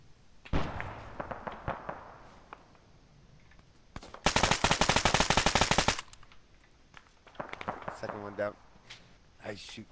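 Automatic gunfire in the Arma 3 Tanoa jungle map, with scattered single shots, a long loud sustained burst in the middle and more bursts later, while players talk over comms.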